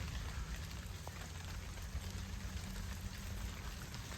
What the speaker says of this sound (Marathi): इथं मोकार पाऊस चालू झाला आहे